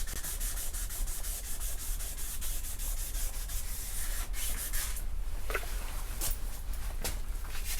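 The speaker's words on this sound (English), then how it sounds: "We're gonna also cut and buff" Buffing paint on a molded custom roll pan fitted to a Chevy Tahoe, a continuous close rubbing whir with fine rhythmic pulses and a few brief sharp ticks near the end.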